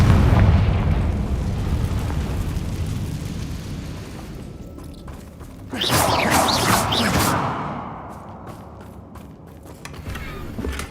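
Confringo fire-blast spell explosions in the Hogwarts Legacy video game, a sustained rumbling roar at first, then a loud crackling burst with debris that gradually fades, no voices.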